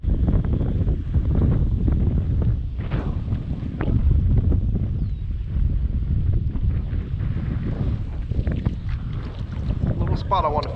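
Wind buffeting the microphone on a boat while bass fishing on Lake Okeechobee, a constant low roaring rumble with water movement, close and fairly loud throughout.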